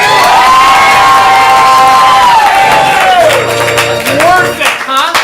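A loud audience at a ComedySportz improv comedy match in Portland cheers and whoops for the red team captain, a sustained roar of shouting with scattered clapping throughout.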